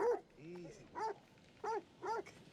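Small dog in the video game The Devil in Me, giving several short whimpering barks and yips in quick bursts, close and fairly clear, with faint game ambience between them.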